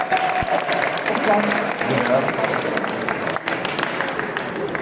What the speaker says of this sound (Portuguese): Muito bem, uma salva de palmas.